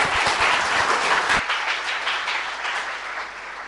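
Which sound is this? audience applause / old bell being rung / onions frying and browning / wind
audience applause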